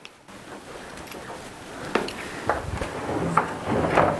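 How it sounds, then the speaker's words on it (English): Old sliding doors in a house being viewed, slid open or closed, giving several knocks and rolling rattles in a row, moderately loud and close. "Look at these slidey doors. You don't see these very often now."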